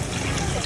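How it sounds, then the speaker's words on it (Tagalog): Water pours steadily into a cooking pot of dinuguan, a dense, continuous rushing splash close up that fills the whole short moment. "Tapos lagyan natin ng tubig."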